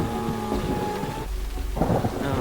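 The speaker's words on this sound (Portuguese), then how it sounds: "Porém uma tempestade se inicia" Thunder rumbles low and heavy under steady rain in a stormy scene, with a brief lull before rain and rumbling swell again, no voices.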